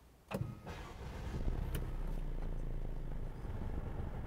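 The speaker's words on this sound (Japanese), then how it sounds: "ではエンジン始動していきます。" A 2015 Mercedes-Benz C200 Avantgarde AMG Line engine cranks with a sharp burst and catches, then settles into a steady, close idle hum that continues to the end.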